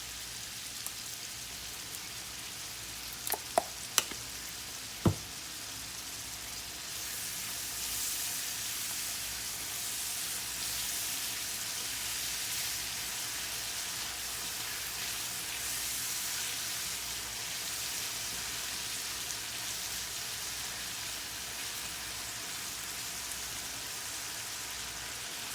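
Minced garlic sizzles in a pan of squash and peppers being stir-fried, a steady soft hiss that holds throughout, with a few sharp clicks near the start.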